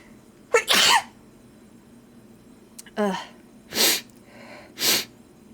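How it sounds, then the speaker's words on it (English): A series of sharp sneezes, one after another with pauses between, close and fairly loud in a quiet room. "I need to sneeze."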